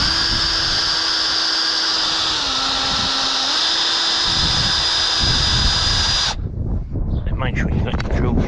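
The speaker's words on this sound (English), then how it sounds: "we'll drill a couple more holes in each of these boards" Power drill boring holes in timber boards while repairing a folding garden kneeler: a loud, steady high whine with a slight pitch dip mid-run, stopping abruptly and followed by clattering handling noises and brief talk.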